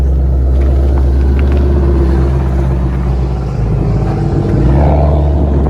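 A 2020 Ford Shelby GT500 makes a quarter-mile drag strip pass, a deep heavy engine rumble and roar heard from inside, loud and continuous with a shift near the end.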